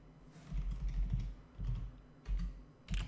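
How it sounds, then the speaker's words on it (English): Computer keyboard typing while filling in a web form, with quick irregular bursts of key clicks separated by short pauses, close and moderately quiet, with no voices. "so let's start and type Joe Smith"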